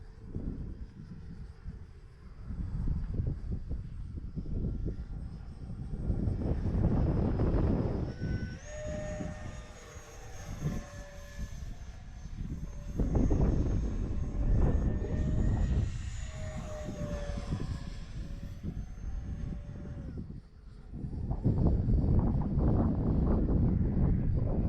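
An Arrows RC Viper 50mm electric ducted-fan model jet flies in high wind, its whining fan rising and falling as it passes, mixed with gusty wind rumble at the microphone.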